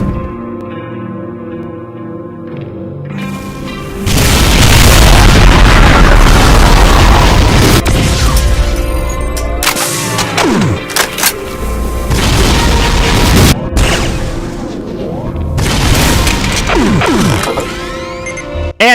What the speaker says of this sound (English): A spread of legendary Demented BFG shots